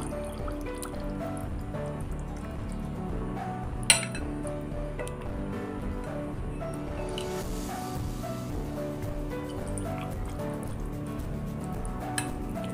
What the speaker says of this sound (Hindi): अब डालेंगे दूध।